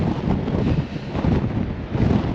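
Strong gusts on the Blackpool seafront promenade, blowing sand about, buffet the microphone with a heavy, continuous roaring rumble that swells and eases, loud and close, with no voices.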